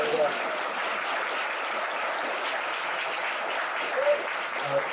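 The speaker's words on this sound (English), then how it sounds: "so how about one more round of applause?" A luncheon audience gives a sustained round of applause, a smooth wash of clapping throughout with a few faint voices underneath.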